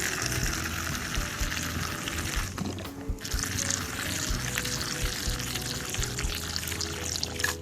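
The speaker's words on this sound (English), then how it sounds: "I'll be adding some water to it" Water is poured into compost tea to dilute it for an aglaonema houseplant, a continuous close splashing pour with one brief break midway before the stream resumes.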